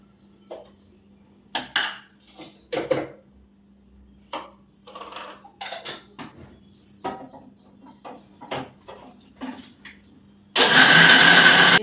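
A kitchen mixer grinder grinding roasted gram and jaggery roars to life loudly and steadily near the end, after scattered clinks and handling noises over a low hum.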